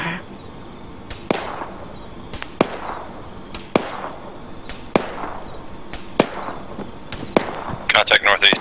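Gunfire in the military shooter game Arma 3, single sharp shots cracking at a steady pace of roughly one per second, each with a decaying echo, then a rapid burst at the end, with voices talking between shots.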